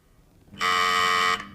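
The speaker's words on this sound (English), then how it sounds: "The buzzer goes, no one answers." A loud, steady electronic quiz show buzzer on The Krypton Factor drones for just under a second, then cuts off abruptly, with no speech.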